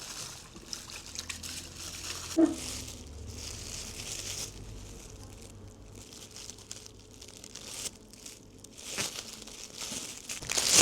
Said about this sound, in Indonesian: Kita masukin ke kresek warna yang mau dipertahanin warnanya.